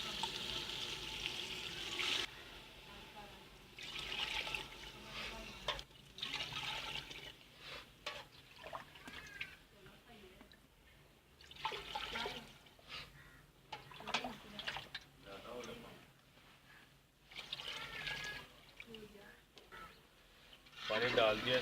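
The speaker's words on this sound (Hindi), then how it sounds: "अब हम इसमें पानी डाल देंगे।" Water is poured into a pot of fried chicken for biryani in a home kitchen, coming in splashy bursts under a speaking voice, with birds faintly audible outside.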